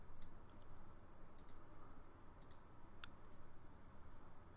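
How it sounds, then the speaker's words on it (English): Soft clicking keystrokes of a password being typed on a computer keyboard at an administrator login, a few brief taps spread out over steady background hiss, with no voices. "type in the password"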